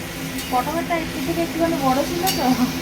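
Ghugni bubbles and hisses in a pan on a home kitchen stove while a spoon stirs it with soft scraping, and people talk steadily over the cooking.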